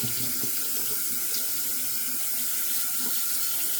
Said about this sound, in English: Get this rinsed out.